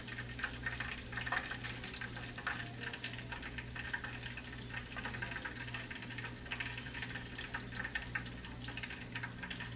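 Fish frying in hot oil for escovitch fish, a steady close sizzle and crackle that runs evenly throughout with no talking.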